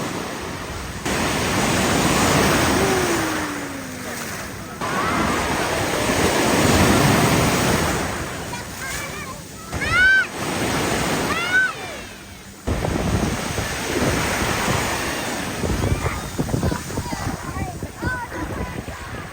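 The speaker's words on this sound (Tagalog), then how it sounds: "Lakas ang alon eh." Strong ocean waves surge and crash on a beach at Puerto Galera, a loud broadband wash rising and falling, with people talking and calling out nearby over the surf.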